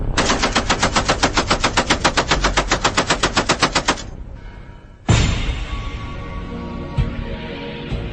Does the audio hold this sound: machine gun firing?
yes